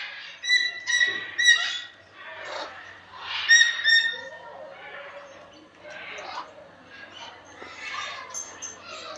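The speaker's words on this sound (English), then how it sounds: "it says the gray-headed swamp hen is an impressive bird" A gray-headed swamp hen calls at a bird attraction in Pigeon Forge, Tennessee, giving a run of harsh, squawking calls in irregular bursts, fairly close, with other birds faintly around.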